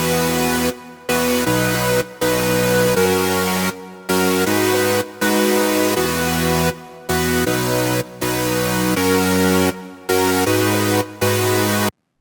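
Layered synth chords built from Influx lead and Forever presets play a sustained progression, each chord held for about a second with brief gaps between changes, loud and full with no voices.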